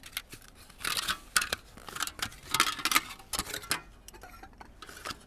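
Aluminium foil is crinkled and folded by hand into a windshield for a backpacking camping stove, making quiet, close, irregular crackling bursts with short pauses between them.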